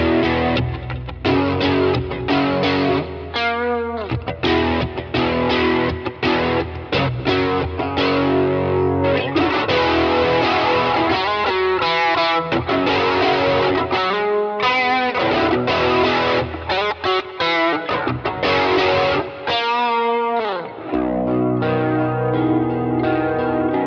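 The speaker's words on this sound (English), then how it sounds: "Throw a Tube Screamer on the bridge here, and it just sounds great." A baritone electric guitar on its bridge pickup played through a Tube Screamer overdrive pedal gives loud, distorted, gritty riffs with chugging palm-muted bursts, short pauses and sustained chords across the whole stretch, with no voices.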